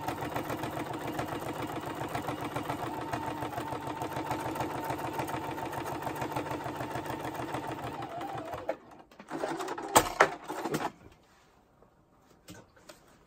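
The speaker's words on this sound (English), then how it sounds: "So that was my knee lift occasionally falling off." A sewing machine hums in a fast, steady rhythm for several seconds, then stops, followed by a few loose clunks and rattles of its knee lift falling off before quiet.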